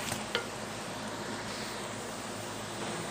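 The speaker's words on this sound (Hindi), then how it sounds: "सॉसेज और गाजर इसमें डाल के फ्राई कर रहे हैं हम" Mushrooms, sausage and carrot frying in butter in a pan, a steady close sizzle with a brief clatter of stirring near the start.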